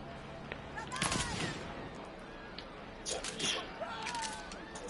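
Sniper rifle shots in Saints Row (2022) land as a few faint, sharp cracks, about two seconds apart. Low game ambience and some talk sit underneath.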